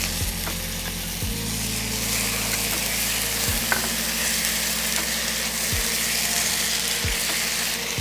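Raw paste of mint and spinach leaves sizzles steadily in a hot pan for a restaurant-style murg chatniwale, with a constant broad hiss and a few scraping stir strokes against the pan.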